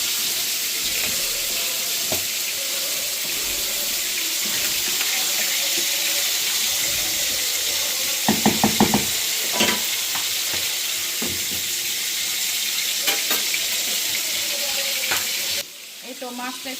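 Boal fish frying with spices in a pan, stirred by a spatula: steady close sizzle throughout, with bursts of scraping and stirring around the middle and a brief lull near the end.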